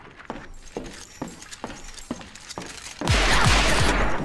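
Gunfire from gun-carrying dolls in the horror game Perception: spaced single shots tapping out a slow irregular rhythm, then a loud sustained barrage of rapid fire, close and without talk.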